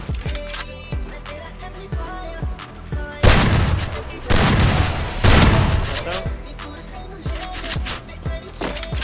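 Gunfire in the battle-royale video game Garena Free Fire: repeated sharp shots and bursts with a few heavier blasts, fairly loud, over game sounds and a voice.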